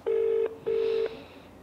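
Two steady telephone keypad dialing tones, each about half a second long with a short gap between, loud and clear on a quiet line as a phone-in call is placed.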